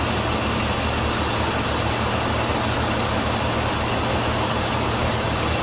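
Chevrolet Silverado engine idling smoothly with no misfire, a steady, even, broadband rumble throughout, close and without talk.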